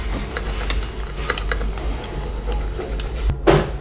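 A knife and fork scrape and tap against a plate while pizza is cut, soft scattered clinks close by, then a sharper clatter near the end.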